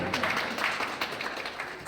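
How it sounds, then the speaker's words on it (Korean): A church congregation breaks into applause during a Sunday service, a dense patter of many hands clapping at moderate volume for a couple of seconds, with a speaking voice faintly underneath. "여러분 왜 박수를 안 치세요?"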